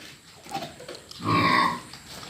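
Pigs on a pig farm that keeps pregnant sows give a short, soft snort, then a louder, rough grunt close by.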